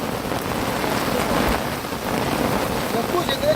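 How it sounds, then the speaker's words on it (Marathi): Heavy rain starts pouring outdoors, a loud and close continuous downpour roar with a low rumble underneath and no break. "पावसाची आहे ना सुरुवात जोरदार झाली."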